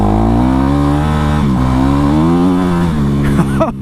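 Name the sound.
Honda CRF450 dirt bike engine revving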